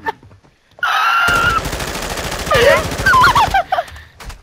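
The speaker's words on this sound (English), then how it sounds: "Fucking put a whole clip into the tree before you shot the guy." Video-game automatic gunfire as a full magazine is emptied into a tree, a loud sustained rapid burst lasting a few seconds, with shouting voices over parts of it.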